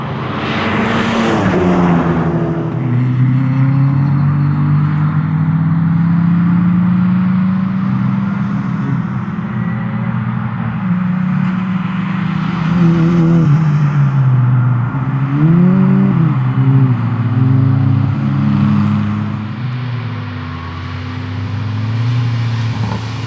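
Cars lapping the Lurcy-Lévis race track on a damp, drying morning, with a loud, steady engine drone as one car revs and shifts up and down through the gears, close and continuous throughout.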